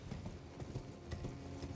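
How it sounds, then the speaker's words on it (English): Horse hooves clip-clop steadily in Elden Ring, a quick, even rhythm of close, moderately loud footfalls with faint talk barely present beneath. "We should just be using our horse here."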